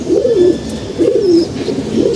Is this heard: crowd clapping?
no